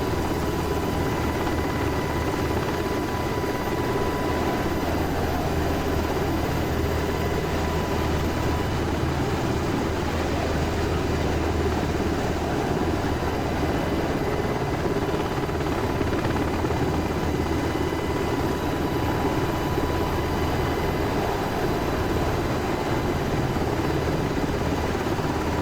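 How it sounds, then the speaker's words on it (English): A UH-60L Black Hawk helicopter in the DCS flight simulator drones steadily, its turbine whine and rotor thrum loud and constant with no pauses or talk. "I really like this helicopter."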